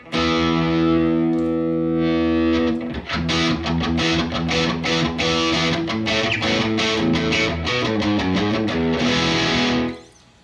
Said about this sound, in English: I switched from blues driver up to Boss distortion, which is a clone of their DS1 pedal